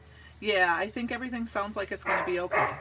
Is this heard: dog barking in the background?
yes